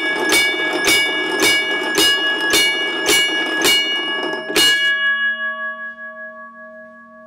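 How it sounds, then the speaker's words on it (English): A Chicago and North Western railroad gong bell strikes about eight times at an even pace, then stops and its tone rings out and fades. "the classic sound that you'll hear from a Chicago Northwestern gong bell"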